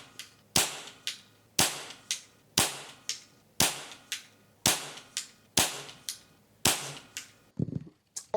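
An air rifle, either a Weihrauch HW77 or Air Arms TX200, fires a string of ten sharp shots at a steady pace roughly one second apart, each a crisp close crack with a short ringing tail, no talk.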